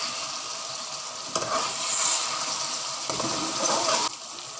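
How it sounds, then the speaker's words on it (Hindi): Chicken for a Muslim-style biryani sizzles and is stirred over a high flame, a steady close crackling hiss with brief louder bursts of stirring, no voices. "5 मिनट हो गए हमारे चिकन को हाई फ्लेम पे पकते हुए।"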